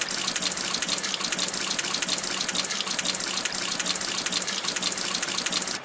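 Water gushes steadily from a tap in a tree-moving truck video game, a constant, bright rushing stream with no pauses and no voices over it.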